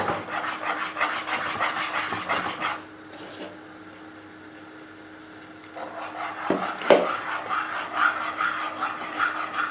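A whisk scrapes rhythmically through milk as it is added to a homemade lasagne sauce, making quick, close scratching strokes in two bursts separated by a quieter pause.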